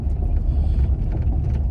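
A Kubota four-wheel-drive tractor engine runs steadily up close, a continuous low rumble with no break and no voices.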